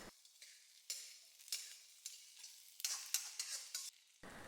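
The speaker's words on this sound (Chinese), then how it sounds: "下入炸好的茄子，翻炒均匀" Deep-fried eggplant is stir-fried in a wok with a little oil, scallion, ginger, garlic and bird's eye chili. A spatula makes quick, close scraping strokes in bursts over a crackling sizzle, with no speech.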